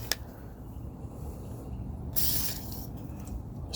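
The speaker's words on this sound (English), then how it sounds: "I'm going to put a little spray on here" A short hissing burst of spray lubricant hits a pair of curved jaw locking pliers at close range, lasting under half a second amid quiet handling clicks and faint room noise.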